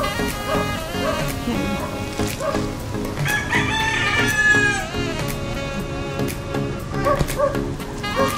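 A rooster crows among clucking chickens in a rural yard, with dogs barking and people talking nearby throughout a busy, close mix.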